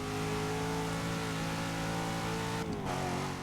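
Engine of a Cadillac CTS-V sedan in the video game Forza Motorsport 6, a steady droning rev held for several seconds with a brief dip and shift near the end, no talk.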